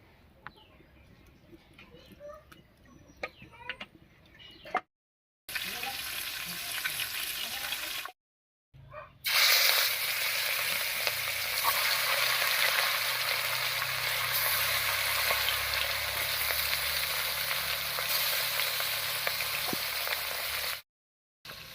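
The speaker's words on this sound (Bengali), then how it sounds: "এবার কড়াইয়ে সর্ষের তেল দিয়ে মাছগুলো ভেজে নেব" Pieces of katla fish sizzle loudly in mustard oil in a wok, a dense continuous frying hiss after softer kitchen sounds and a brief pause near the start.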